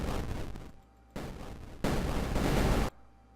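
Three loud, rumbling explosion sound effects in the Unity3D game engine, each a broad burst of noise that cuts off abruptly, separated by short quiet gaps.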